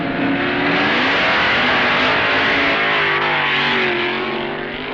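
Drag racing cars roar off the line at the NHRA Superstock finals, a loud, continuous, distorted engine blare that holds steady across the whole stretch, likely an archival broadcast recording from the 1969 Hurst/Shifters Tournament of Champions.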